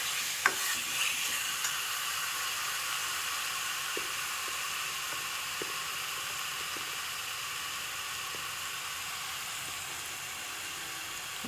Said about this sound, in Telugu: చూడండి, మసాలా కూడా వేసేసాను. అదేమో ఎగుతూ ఉంది.